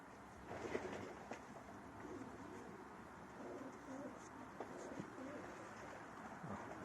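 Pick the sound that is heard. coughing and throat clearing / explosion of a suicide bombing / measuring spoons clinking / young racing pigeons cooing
young racing pigeons cooing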